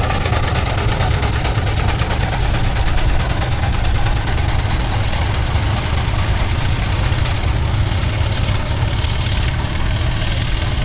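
A miniature steam haulage engine pulling a showman-style dynamo as its load passes during a parade at a steam rally, giving a steady, close, low chugging rumble with no voices over it.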